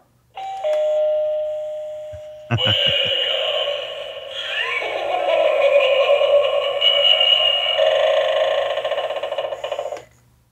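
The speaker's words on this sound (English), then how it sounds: "And here's what happens when you push the doorbell." A battery-powered novelty eyeball doorbell, run on three AAA cells, sounds when pushed: a brief tone, then a loud, steady electronic chime or buzzing melody rings close by for about eight seconds before cutting off.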